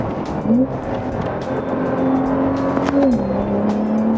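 A car braking hard on a race circuit, engine tone falling in pitch as it decelerates, then rising and falling again, loud and close with no talk.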